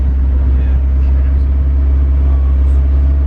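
A McLaren 720S sports car engine idles at a steady, deep low rumble, close and continuous throughout with no revving.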